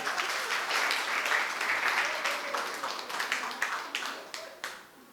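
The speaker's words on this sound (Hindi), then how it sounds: "जोरदार तालियां इनके लिए" Applause rises from a gathered audience at a Buddhist vihara in Raipur, a dense wash of many hands clapping that holds steady and then thins into scattered, fading claps.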